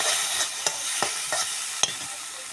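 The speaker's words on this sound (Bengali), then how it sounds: "আদা রসুনের পেস্ট 2 চামচে দিয়ে দিলাম।" Spices and ginger-garlic paste sizzle in a hot pan as a spoon stirs them, with a loud steady frying hiss broken by several distinct scraping knocks at an uneven rhythm, close by and without speech.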